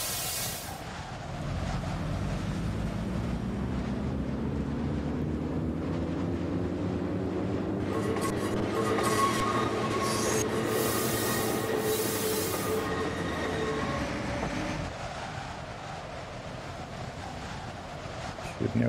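A locomotive rolls along rails in a train simulator, its wheels squealing in a long rising and falling whine through curves beneath a steady rumble, loud and close for most of the stretch before easing off.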